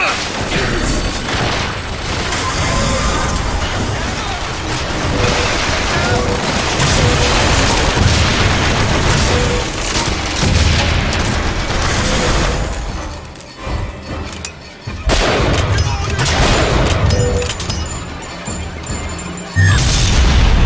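Turret gunfire in the video game Bioshock Infinite, dense rapid bursts of shots and crashing impacts amid loud continuous battle noise, with brief lulls before the firing resumes.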